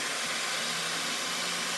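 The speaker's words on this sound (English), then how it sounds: "It's an air dryer, a hair dryer." A hair dryer on its cold setting, used to dry gel plate prints, blows a loud, steady, close-up rush of air with no break.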